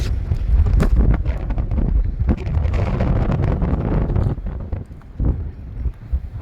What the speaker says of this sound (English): We've got a lot of wind today.